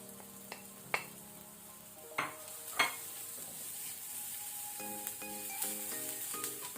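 Onion frying over a low flame with salt, red chilli powder and turmeric added for a long beans sukka, a soft continuous sizzle with occasional sharp spatula clinks and scrapes, near and without speech.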